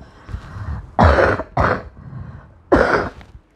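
A person coughs in a few short, harsh bursts, with a pause between the second and third, close and loud over a quiet room.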